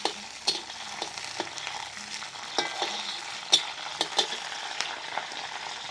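Mutton chops frying in ghee with curry leaves, a soft steady sizzle broken by intermittent scraping stirs of a spoon against the pan, fairly close and quiet.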